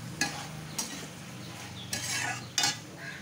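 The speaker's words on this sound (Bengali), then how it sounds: "দিয়ে ভালো করে নেড়ে নিচ্ছি।" Spoon scraping and stirring through rendered mutton fat with spices and a sprinkle of fenugreek leaves in a pan for tarka dal, with four sharp scrapes over a low, steady sizzle.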